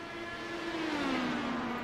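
Race cars at the Twin Ring Motegi circuit during the Apex Sage Coaching 300, a single engine tone sweeping slightly downward as a car passes at moderate distance, fairly faint and continuous.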